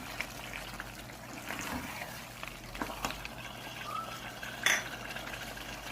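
A spoon stirs aloo gobi with garam masala in a cooking pot, giving faint scraping and clinking under steady kitchen background hiss, with a brief louder metallic knock near the end.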